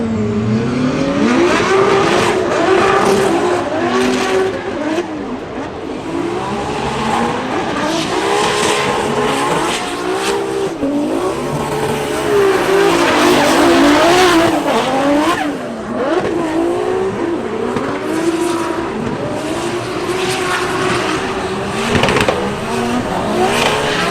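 A Formula Drift car at Orlando drifts on nearly bald tires, its engine revving hard and wavering while tires squeal and skid almost continuously, loud and close throughout.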